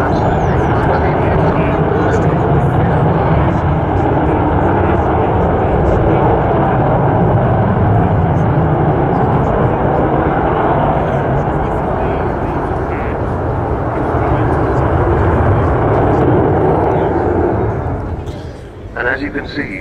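An Avro Vulcan XH558 bomber roars through an air display at RAF Fairford, a loud continuous jet rumble that dominates throughout and eases off near the end.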